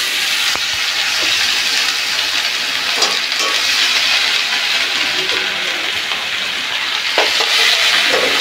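Cardamom and whole spices sizzle and fry in a hot pan for a Bengali doi potol curry, a loud, steady crackling hiss with occasional scraping stirs, close up and without talking.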